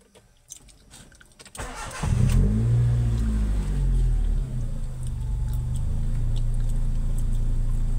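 A 2004 Honda Civic Dimension engine cranks briefly after a quiet moment, catches, and settles into a steady, close idle that holds to the end.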